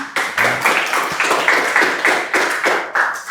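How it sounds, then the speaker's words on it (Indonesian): Students in a classroom clap in a rhythmic, evenly spaced pattern of sharp, close claps, about three per second. "Berikan tepuk tangan."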